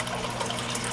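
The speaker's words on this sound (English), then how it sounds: "the water that is being drained from this filter to cause water turbulence" Water drains from the spout of an aquarium filter, a steady, close, even splashing rush with bubbling turbulence and no pauses.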